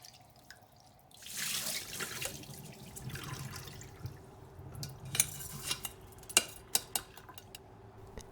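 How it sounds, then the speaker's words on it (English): Basmati rice being rinsed in water, with running water and sloshing from about 1.5 seconds, then a few sharp knocks and drips toward the end, fairly quiet and with no voices. "now that the rice has been washed off"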